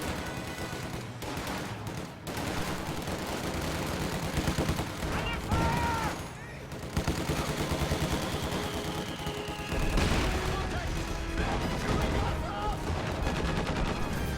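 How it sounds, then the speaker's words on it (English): Combat from a real-time strategy game, where an anti-tank gun fires a long-range shot that destroys an anti-aircraft half-track amid a dense, continuous wash of battlefield gunfire, with a louder burst near the ten-second mark. "AA half-track destroyed by a long-range shot from that AT gun"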